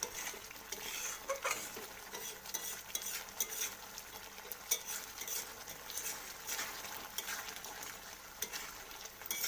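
Prawns sizzle and fry in a mustard and poppy seed sauce while a utensil steadily stirs and scrapes the pan, with close, continuous crackling and clinking throughout.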